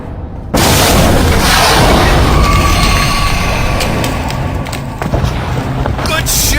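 A massive explosive blast opens a loud, sustained roar of sci-fi weapon fire and rumbling, with sharp cracks and voices mixed in the dramatic noise.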